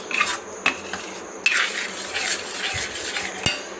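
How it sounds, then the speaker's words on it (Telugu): Mango pulp is stirred while cooking down into mango thandra in a pot, with repeated scraping of a utensil and sharp metallic clinks against the pot over a soft background, with no voices. "ఇట్లా దగ్గరుండి కలుపుతూనే ఉడికించుకున్నానండి."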